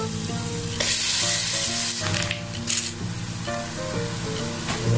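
Marinated chicken fries in a pan for chicken menudo, giving a steady, loud sizzle with occasional stirring scrapes and no voices.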